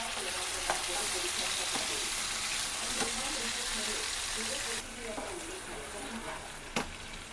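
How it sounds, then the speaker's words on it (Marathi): Green masala paste frying in a pan, a constant close hiss of sizzling oil with occasional stirring taps and a slight drop in intensity partway through. "हिरवं वाटण टाकतोय।"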